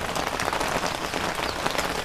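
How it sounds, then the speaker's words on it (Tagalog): A sudden renewed downpour hisses continuously and evenly on a coconut farm in the Philippines, close and steady, with no voices over it. "Bigla namang ulan ulit."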